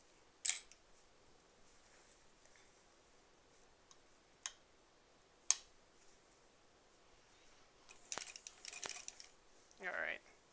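Scissors cut a piece of quilt fabric in a quiet room: a few isolated sharp snips spaced seconds apart, followed by a brief cluster of rustling cuts and fabric handling near the end.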